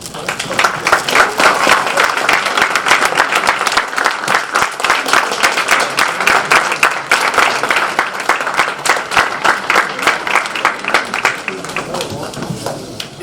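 A crowd at a Black History Month celebration gives a standing ovation, a long dense roar of clapping that stays loud for over ten seconds with a few voices mixed in before tapering slightly at the end.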